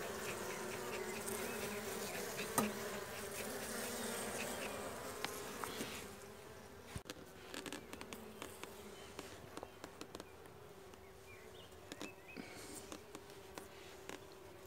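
Honeybees buzzing at a weak hive, a faint, steady drone in the first half, thinning into scattered soft bumps and taps.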